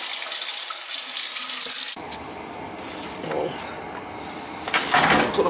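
Water runs and splashes steadily from a pipe into a bucket during replacement of washing machine shutoff valves, with hissing spray and some rubbing or clattering sounds, fairly close by.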